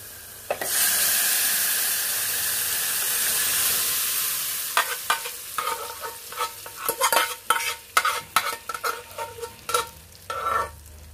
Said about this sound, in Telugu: ఇప్పుడు పప్పు వేసుకుందాం